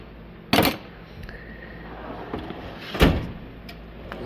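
A drawer in a classic Snap-on toolbox slides with two sharp metallic clunks a few seconds apart, against quiet rattling between them.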